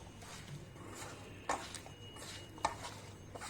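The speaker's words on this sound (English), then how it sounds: "Now we're mixing the water along with the rest of the ingredients" Cauliflower florets being mixed with water and masala for gobi manchurian in a bowl, with faint stirring and a couple of sharp utensil clinks against the dish, quiet and close.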